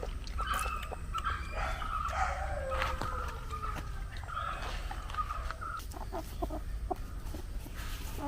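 Hens cluck and murmur in a rural home yard where they are fed alongside a dog, several quick clucking calls rising and falling at close range over a soft background hiss.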